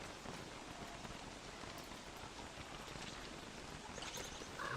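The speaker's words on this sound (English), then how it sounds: "is it raining frogs? Frog rain!" Frog rain falls in the survival game Don't Starve Together as a very faint, steady patter of rain with a few slightly louder drops near the end.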